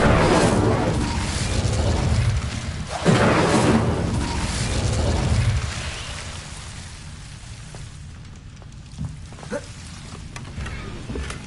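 Incendio fire spell cast in the Hogwarts video game: loud whooshing fiery bursts with crackling roar in the first half, one sharp blast around three seconds, then fading to quieter scattered crackles.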